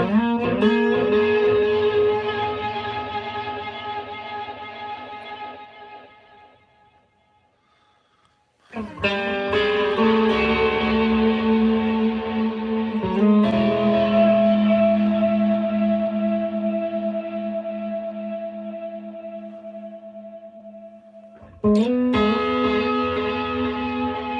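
Electric guitar played through a Headrush rig with delay feedback, sustained distorted chords and notes swelling and trailing into echoing repeats, with a near-silent pause before fresh loud strums return, no talking.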